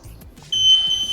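A high, steady electronic alarm beep from an Ajax LeaksProtect water leak sensor switches on partway through and keeps sounding loudly, with quiet background noise before it.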